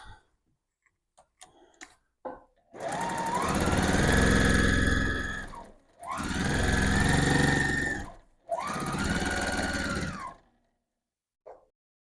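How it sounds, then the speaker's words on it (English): A sewing machine stitching seams on fabric for half-square triangle quilt blocks runs in three sustained bursts of steady rapid clatter, separated by short pauses for pivoting, with scattered small handling clicks before and after. "Just continuing until you have all of the seams sewn."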